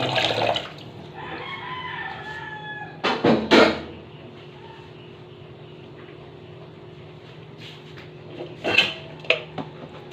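Dishes clink and clatter in short bursts, with a few sharp clanks and quieter stretches of running background noise between them.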